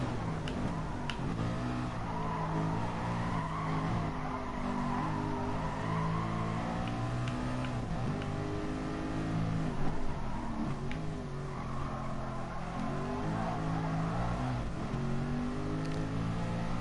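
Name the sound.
Nissan R92CP race car engine in video game GT Sport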